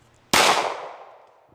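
One loud, close gunshot while shooting at targets, a sharp crack that decays over about a second into quiet.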